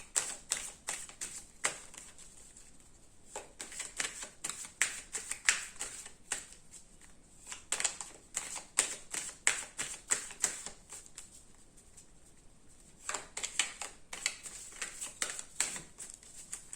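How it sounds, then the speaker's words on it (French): Tarot cards shuffled and drawn by hand, a long run of quick, crisp riffling snaps and slaps coming in dense bursts with short pauses, close and fairly quiet, no speech. "On va tirer 2 cartes pour un conseil."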